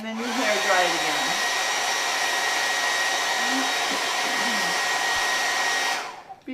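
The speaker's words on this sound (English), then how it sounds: "You just wipe the softener in, and then you hair dry it again." Hair dryer blowing over oil pull-up leather to dry wiped-in softener: a loud, steady close whoosh with a slight pitch wobble at the start, running about six seconds before switching off, no talk.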